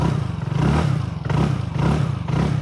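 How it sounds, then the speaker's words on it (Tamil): A TVS Ntorq scooter's exhaust throbs in repeated revving pulses, close and fairly loud, each burst rising and falling in a steady rhythm with some mechanical clatter. "ஸ்கூட்டர்ஸ்லே சத்தமான எக்ஸாஸ்ட் சவுண்ட் இருக்க ஒரு ஸ்கூட்டர் அப்படின்னா அது டிவிஎஸோட என்டார் தான் சொல்லணும்"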